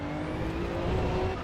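A race car slides sideways through a chicane in the racing game AC EVO, its engine droning steadily with a thin tire scrub running through the whole brief stretch.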